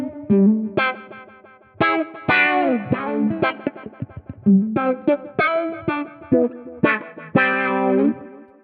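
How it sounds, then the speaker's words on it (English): Electric guitar played through a funky auto-wah preset in Guitar Rig 6 software, with tape echo, giving short sweeping, quacking phrases and chords in a steady, choppy rhythm, loud and alone. "Maybe this funky auto wah."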